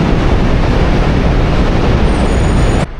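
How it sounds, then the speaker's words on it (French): A New York subway train rushes past up close, a loud, steady roar of wheels and rail noise filling the whole stretch before cutting off abruptly near the end. "ça y est, le métro est passé"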